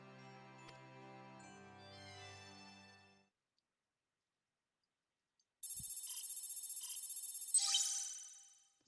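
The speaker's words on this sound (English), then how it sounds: "Sounded like a phone going off." A phone ringtone chimes in the video game Final Fantasy XIV, a bright, repeating electronic ring that follows a short musical passage and a pause, fairly close and clear, with no speech.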